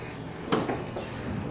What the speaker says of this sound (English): Oh, door closed this one.